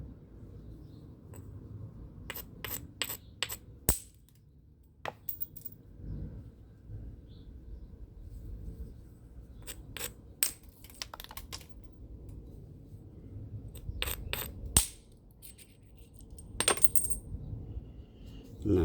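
Sharp, isolated cracks of a sandstone hammerstone striking stone to knock off flakes, spaced irregularly in a handful of hard knocks with soft handling and scraping noises between them, close and without speech.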